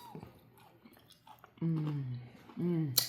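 A crispy fried chicken wing crunches with soft bites and chewing near the mouth, between two spoken phrases and a sharp crackle at the end.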